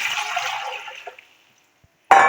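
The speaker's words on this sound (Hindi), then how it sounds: "ये कुकर में हम पानी शामिल करेंगे" Water splashes into a pressure cooker for a rice and lentil dish, a short pour that trails off into silence before a brief loud clatter at the end.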